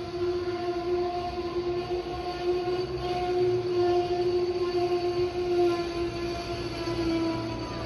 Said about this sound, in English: It's one of the Amtrak trains.